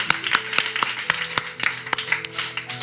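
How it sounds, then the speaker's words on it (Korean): Steady clapping from a church congregation, sharp overlapping claps in a quick even rhythm, fairly close and continuous throughout. "우리가 감사의 박수 한번 올려드립시다"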